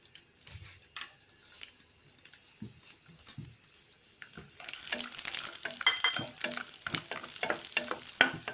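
Cashews and raisins frying in ghee in a kadai, a soft crackling sizzle that grows busier and louder halfway through, broken by light scraping stirs against the pan.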